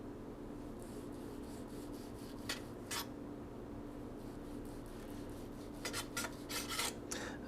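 A knife slices poached chicken into thin pieces, producing faint, soft scraping and rasping strokes in short bursts against a quiet kitchen background.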